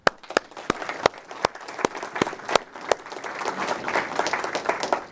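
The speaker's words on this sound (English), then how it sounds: "So round of applause." A crowd at a Department of Homeland Security awards ceremony applauds, scattered individual claps at first, then building into dense, continuous clapping.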